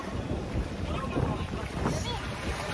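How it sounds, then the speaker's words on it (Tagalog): Strong wind buffets the microphone outdoors in a steady broadband roar, gusting slightly, with faint voices mixed beneath it. "Super lakas ng hangin dito."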